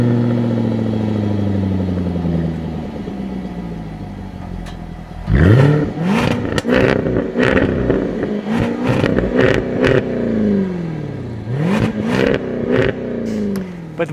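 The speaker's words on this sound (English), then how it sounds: "if you hear that supercharger whistle, it is such a beautiful sound combined with what is coming out of the exhaust pipes" Jaguar F-Type R with its supercharged engine revving hard, rising and falling in several loud bursts with exhaust roar and supercharger whine after a steady idle, close and alone.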